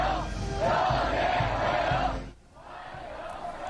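A cheering crowd greeting Trump's arrival in Beijing, a loud continuous roar of voices and shouts that drops away briefly, then resumes more faintly.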